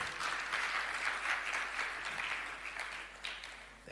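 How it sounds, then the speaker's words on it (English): Applause from a large crowd, a continuous rippling clatter of many hands that fades slightly toward the end. "A round of applause for Mzee."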